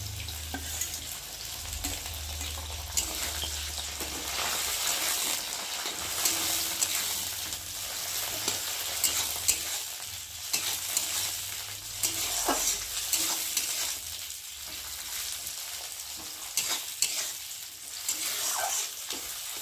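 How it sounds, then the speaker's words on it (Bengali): Vegetables for fried rice fry in a pan, including capsicum, with a steady hiss of sizzling oil and repeated scraping stirs throughout, no voices. "এগুলো একটু ভেজে নেব।"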